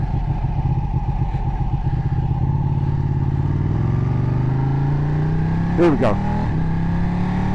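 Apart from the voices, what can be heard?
Ducati 1299 motorcycle engine revving while riding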